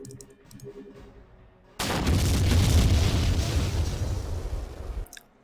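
A grenade blast in the Jagged Alliance 2 video game, a loud sudden boom that bursts in after faint game sounds and a brief word, then rumbles heavily for about three seconds before cutting off.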